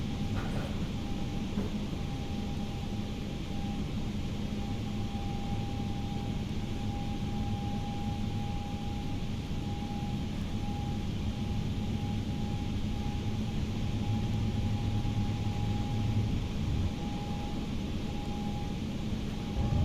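An Airbus A320-212 in the Prepar3D flight simulator climbs after takeoff as the gear retracts: a steady, loud engine drone with a constant whine throughout, and no talking.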